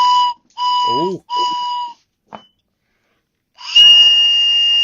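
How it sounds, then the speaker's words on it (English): A working whistle blown in three short shrill blasts, then a longer sustained blast after a pause, close and loud, with a brief spoken exclamation in between. "That's definitely a working whistle."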